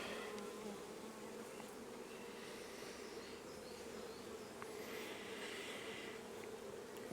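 Honey bees crowd a hive frame being inspected, giving a dense, continuous buzzing hum that stays steady and close throughout with no talk.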